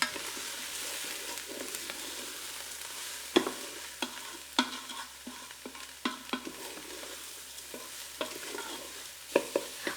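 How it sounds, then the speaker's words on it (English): Lentils, vegetables, dried basil, onion powder and garlic powder sauté in a pressure cooker with a continuous close sizzle, punctuated by repeated sharp scrapes and clicks of stirring against the pot. "I'm gonna let that saute for about 5 minutes"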